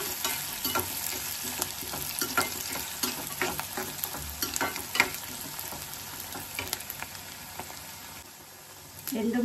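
Garlic frying in a pan for gongura egg curry gives a steady close sizzle, with scraping stir strokes and small pops throughout that ease off near the end.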